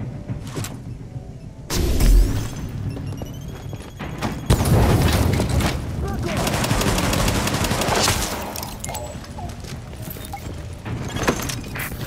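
A grenade explosion and gunfire in Tom Clancy's The Division, with a loud boom followed by bursts of rapid firing and crackling debris over a rumbling game backdrop.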